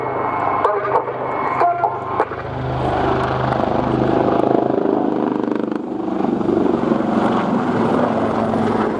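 Royal Navy Westland Wildcat helicopters, each with two T800 engines, fly a display at an air show. A loud continuous rotor and turbine roar swells as they approach, and a commentator's voice sits faintly beneath.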